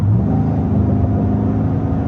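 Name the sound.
2023 Cadillac Escalade ESV engine revving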